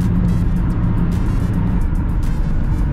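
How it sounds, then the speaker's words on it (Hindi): A Toyota Camry drives at highway speed with a steady, loud low engine and road rumble and a constant hiss of tyre and wind noise. No talking. "एंड भाई अपनी गाड़ी चल चुकी है"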